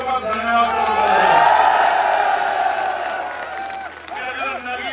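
A rally crowd at a village gathering in Bijnor cheers and whoops loudly, a dense swell of voices that fades over a few seconds, with some clapping and shouting mixed in.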